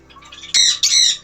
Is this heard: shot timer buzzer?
no